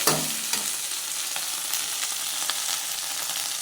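Curry leaves frying in hot oil until crisp, a steady close sizzle with a few light stirring taps scattered through, moderately loud, no speech.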